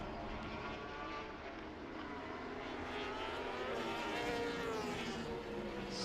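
A racing motorcycle at an FIM Asia Road Racing Championship round brakes and tips into a corner, its engine a faint, steady, distant drone with shifting pitch across the track.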